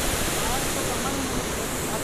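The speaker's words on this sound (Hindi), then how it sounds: "इतनी लहरें चल रही हैं, लहरें क्या बताएं फ्रेंड्स" Continuous rushing of water waves flowing through a canal, loud and steady broadband wash with no breaks across the whole stretch.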